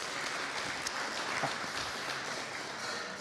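An audience at a keynote speech applauds, a dense, even wash of clapping that holds steady for a few seconds with no talking.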